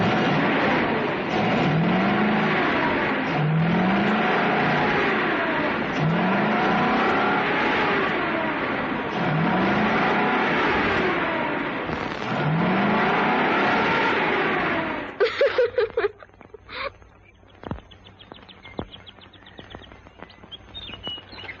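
An old truck engine runs steadily with a wheezy, laboring drone and rhythmic surges for about fifteen seconds, then cuts off abruptly, leaving faint clicks and quiet ambient sound.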